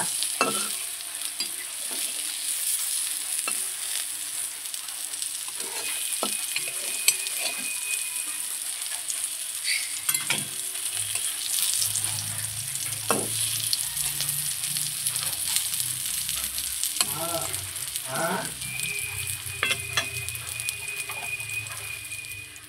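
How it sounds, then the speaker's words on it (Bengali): Mourala fish paturi wrapped in leaves fries in a pan, a steady bright sizzle running throughout with occasional stirring and turning knocks, close and fairly loud, no talking. "খুব সুন্দর করে উল্টো পাল্টে ভেজে নেব, কারণ দেখুন পাতাটাও তো খাবো আমরা।"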